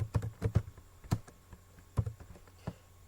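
Keys on a computer keyboard are tapped in short irregular bursts, close and fairly quiet, with pauses between clusters of clicks and no talking.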